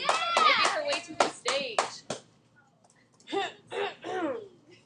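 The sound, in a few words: Class applause for a student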